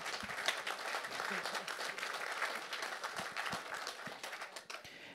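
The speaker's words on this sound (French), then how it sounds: "Ah oui, on peut l'applaudir." Applause from a conference room audience after a talk on company cash management, a dense patter of many hands at moderate distance that thins out toward the end.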